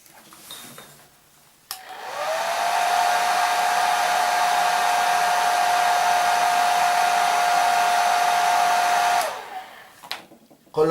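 Hair dryer blowing on freshly painted skin tones of a miniature face, switching on with a rising whir, running as a loud even hum for about seven seconds, then shutting off, with quiet room sound before and after.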